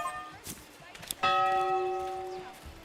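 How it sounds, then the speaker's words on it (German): Church bell tolling in the medieval city-building game Manor Lords, a single loud, ringing strike with long sustained harmonic tones that slowly decay, preceded by brief quieter sounds. "Kirchenglocke?"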